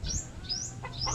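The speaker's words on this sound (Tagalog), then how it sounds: "Galit kay Pagaspas yung maliit na ibon." Quick, high rising chirps from a small bird, three short calls in a row over a low background rumble, around another bird.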